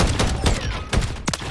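Rapid gunfire in Call of Duty, a quick run of loud close shots with a final sharp crack, no talk.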